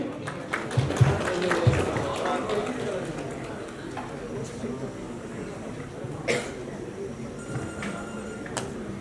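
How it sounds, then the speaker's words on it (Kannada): Applause rings out at a Raj Cup 7 event, a dense clatter of clapping strongest in the first few seconds, then continuing at a moderate level under talk and scattered noises. "ಜೋರದ ಚಪ್ಪಾಳೆ"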